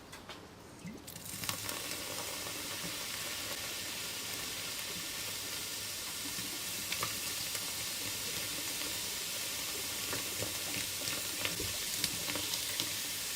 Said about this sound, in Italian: E ora facciamo una bella reazione effervescente con l'aceto.